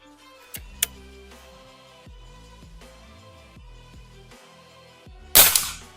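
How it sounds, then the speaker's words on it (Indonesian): A Bocap Guardian PCP air rifle fires a single sharp, loud shot near the end, preceded by faint mechanical clicks and a quiet, sparse background. "Ini sekarang tembakan yang ketiga ya bosku"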